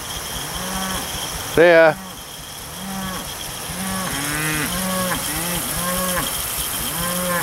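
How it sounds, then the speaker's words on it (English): A herd of cattle moos repeatedly, with one loud close bellow followed by many overlapping calls near and far, while a person briefly speaks. "That's the head cow there telling everybody, get over here."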